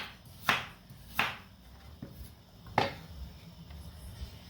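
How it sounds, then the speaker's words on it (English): Knife chopping carrots into smaller pieces for chicken soup, with three sharp, close cuts on a board spaced across a few seconds and a fainter tap between them, in a quiet kitchen. "I have 3 carrots, also got to cut them into smaller pieces before I put them into the soup"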